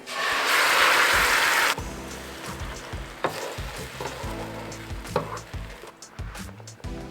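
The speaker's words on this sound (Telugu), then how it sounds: "ఆ పేస్ట్ని నేను ఆయిల్లో వేస్తున్నాను." A paste of ground tomato and onion hits hot oil in a pan with a loud burst of sizzling, which then settles into quieter crackling and stirring scrapes.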